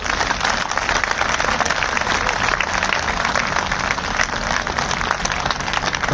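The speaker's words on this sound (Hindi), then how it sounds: "एक बार जोरदार ताली बजाओ अनशनकारियों के लिए।" A crowd at a protest rally for hunger strikers claps loudly and steadily, dense continuous applause filling the whole stretch without a break.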